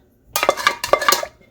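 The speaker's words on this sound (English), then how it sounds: "there's a little bit left in the bowl there. So I'm going to scrape that out." Metal spoon scraping leftover homemade yogurt from a bowl, two short bursts of clinking, scraping strokes heard close and alone.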